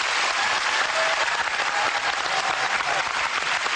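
Loud, dense applause from a large television studio audience, continuous and even throughout without a break.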